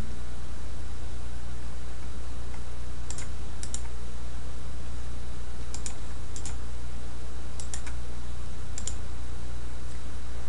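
Computer mouse clicks while working in a photo editor, several crisp close clicks in quick pairs spread across a steady background hiss.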